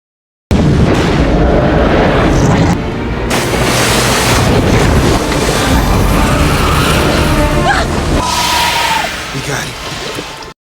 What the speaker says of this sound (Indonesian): Ledakan besar pun terjadi,